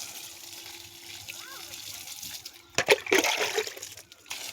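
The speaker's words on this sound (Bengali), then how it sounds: "গাছে জল দেওয়া হচ্ছে" Water pours and splashes onto garden plants such as brinjal and tomato in a few uneven gushes, over quiet voices in the background.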